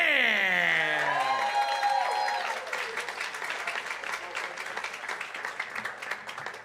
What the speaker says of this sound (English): Let's give a round of applause to Connor McCann.